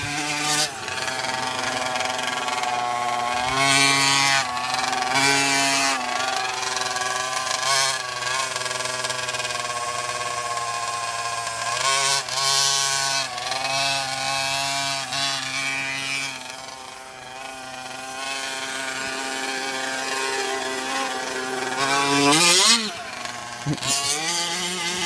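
The small gas engine of a Team Losi 5ive-T 4WD RC truck buzzes loudly and continuously as it drives across a lawn, revving up and down through the run, with voices talking over it now and then.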